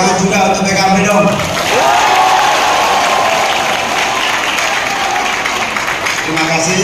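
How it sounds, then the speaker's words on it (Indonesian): A large crowd at a political campaign rally claps steadily, the applause sustained and dense, with loud amplified speech over it at the start and the end. "Tepuk tangan juga untuk PKB dong."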